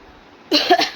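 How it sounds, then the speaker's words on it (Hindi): A single short cough close by after a moment of quiet room noise. "इसको खांसी आ रही है"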